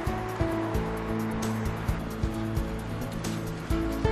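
Outdoor water rushing along Jungnangcheon, a stream in Seoul, a steady broadband wash with no talk.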